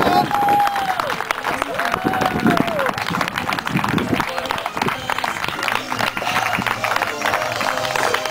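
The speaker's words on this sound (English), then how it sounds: "Come on, give them a cheer." A crowd at an England versus Scotland event applauding and cheering for the Scotland team, loud continuous clapping and crowd noise with voices talking over it.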